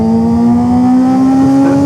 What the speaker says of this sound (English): Quick shifter in action, baby!